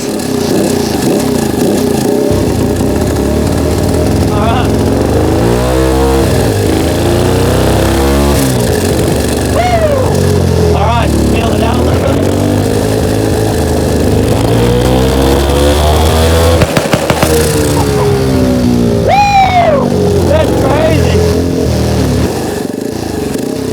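A 150cc turbocharged go-kart engine runs loud and close on its first drive, revving up and down in repeated rising and falling sweeps, with a turbo whine over a buzzing, clattering exhaust.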